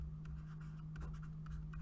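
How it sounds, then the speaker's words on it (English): Pen or marker writing out an algebra equation during a math lesson, quick scratchy strokes tapping and sliding in short bursts, close and fairly quiet over a steady low electrical hum. "So I'm going to write that out."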